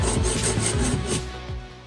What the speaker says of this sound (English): we're gonna make a slot in it using a hand saw